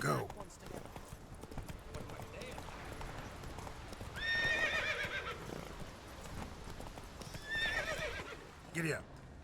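A horse in the video game The Witcher 3 galloping with rapid, close hoofbeats while neighing loudly twice, with voices talking over the action.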